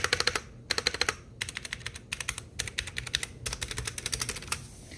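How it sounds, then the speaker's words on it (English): A mechanical computer keyboard types in quick, sharp bursts, with rapid clacking clusters separated by short pauses, close and crisp with no talking. "here's a quick sound test for you guys. Spacebar. That's for the membrane. This is for the mechanical."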